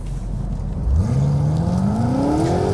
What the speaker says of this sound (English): a snarly set of M Sport tuned tailpipes are added into the mix